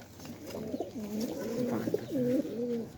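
Pigeons coo in a loft, a close, clear sequence of low rolling calls repeating over about three seconds with no talking.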